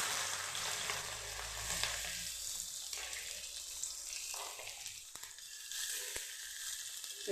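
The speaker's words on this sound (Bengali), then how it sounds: "এখন দিয়ে দিচ্ছি পেঁয়াজ কুচি।" Chopped onion dropped into hot oil already seasoned with cumin, cardamom and bay leaves: a steady, dense hiss of frying with occasional stirring and scraping, close and fairly faint, with no talking.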